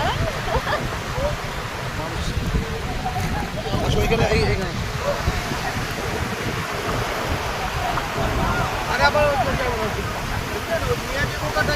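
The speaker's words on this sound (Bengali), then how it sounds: "জোয়ারে এত দূরে মনে হচ্ছে গোসল করি এখন। কত বড় বড় ঢেউ!" Big sea waves roll in at high tide on Cox's Bazar beach in a continuous roaring wash with wind noise, and voices come through faintly over the surf.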